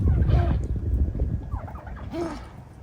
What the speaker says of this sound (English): So there are the geese, the pigeons in here,